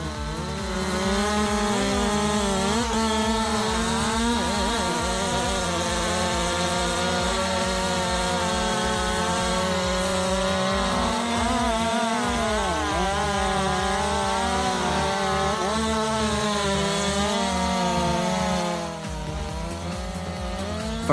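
A large chainsaw, a Husqvarna 395 XP or Stihl MS661C, runs continuously at high revs with a loud, steady buzzing roar and slight pitch wavering, dropping briefly near the end.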